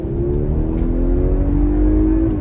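A 2024 Audi A5 Sportback S-line with the 45 TFSI engine accelerates with a close, steady engine note rising smoothly in pitch over road noise, with no talking.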